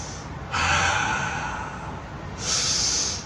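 Deep breaths during a kickboxing class exercise, a long hissing exhale followed by another forceful breath, close and loud with no talk.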